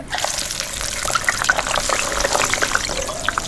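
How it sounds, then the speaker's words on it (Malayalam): Coconut oil poured into a pan while making cutlets, a steady liquid trickle and splash running close and continuous with small bright droplet spatters on top, no talking. "വെളിച്ചെണ്ണ ഒഴിച്ചിട്ട് ഇനി അടുപ്പത്ത് വെക്കാൻ പോവാണ്"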